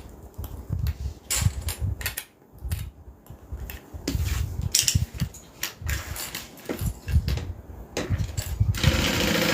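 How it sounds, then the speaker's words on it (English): A sewing machine stitches fabric pieces together into one long gusset strip for the exterior of a sewing project, running in close, steady whirring bursts that start and stop with brief gaps. "So we're going to go ahead and sew these together."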